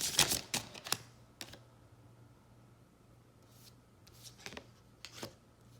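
Tarot cards are shuffled and drawn, a quick burst of riffling at the start followed by scattered soft snaps and flicks of single cards, quiet and close with no talk.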